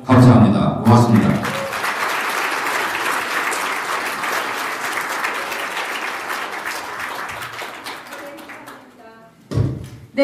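Korean party regional committee chairs at a political gathering applaud in a loud, dense, sustained burst, with voices heard briefly at the start and a sharp thump near the end as the clapping dies away.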